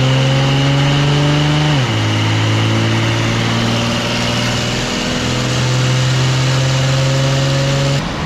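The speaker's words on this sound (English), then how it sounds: "I've never seen a transmission run on a dyno." A built 204R transmission runs on a dyno beside a Cadillac DeVille build, giving a loud, steady mechanical whine and drone. Its pitch drops at a shift about two seconds in, then climbs gradually, with no talk over it.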